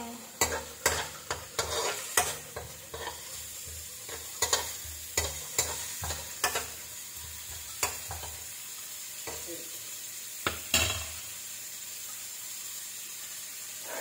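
Chicken tinola ingredients are sautéed and stirred in a pan, with a soft continuous sizzle under repeated sharp scraping and clinking of a utensil against the pan at an uneven rhythm.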